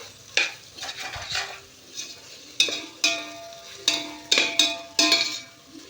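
Spoon scraping and stirring masala in a pan for chicken biryani, a run of rhythmic sharp strokes about every half second over a faint sizzle, close and clear.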